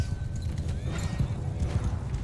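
Hooves clip-clop rapidly under a galloping horse in Bannerlord, a rhythmic near drumming with faint game ambience and brief swishes over it.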